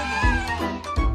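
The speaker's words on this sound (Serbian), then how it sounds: "Čuje mače." A cartoon kitten gives a couple of short, bright meows in quick succession, loud and close with nothing else around them.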